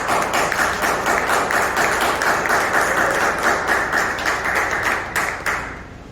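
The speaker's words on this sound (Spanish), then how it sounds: "Dale un aplauso al Señor." A church congregation claps for the Lord during a Spanish-language worship service, a loud, rhythmic unison clapping that holds steady for about five seconds before tapering off near the end.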